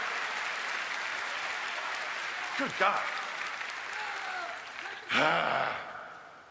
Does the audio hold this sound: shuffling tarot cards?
no